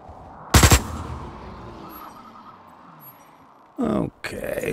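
Pistol gunfire in the sci-fi shooter Osiris: New Dawn: one loud, sharp burst of shots, then a quiet ambient stretch, then two more short bursts near the end.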